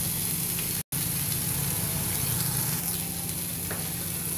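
Capsicum fries on a hot tawa pan, giving a steady, loud, continuous sizzle close up with a faint stirring texture and one momentary dropout.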